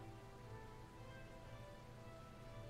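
Steady rain falls in a trash-sorting video game, a soft, even hiss of drops that stays faint and unbroken throughout, with no voices.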